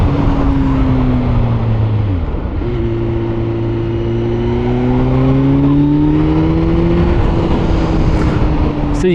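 A 2024 Kawasaki Z900 motorcycle engine revs up and drops back as the rider upshifts and downshifts on an open road, with rising and falling pitch sweeps under steady wind rush, loud and close.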